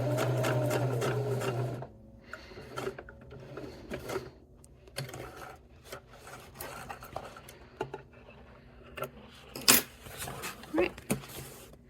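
Sewing machine stitching a clutch bag, a steady mechanical whir for about two seconds that then stops, followed by quieter handling clicks and rustles.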